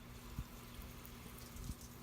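Water spraying steadily from a RinseKit portable pressurized sprayer on a beach, a faint continuous hiss with a couple of soft low thumps.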